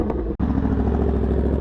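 A Yamaha R1M sport motorcycle pulling up close by, its engine loud with a rumbling, uneven idle and a brief cut before it carries on running.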